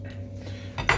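Onions tumble into a frying pan with a short clatter of metal and cookware near the end of a brief, quiet kitchen moment while burgers are being prepared.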